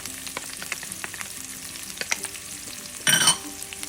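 Fresh chopped garlic fries over medium-low heat in a pan for a tomato mushroom omelette, giving a steady soft sizzle with light crackles, then a sudden louder burst of hissing near the end.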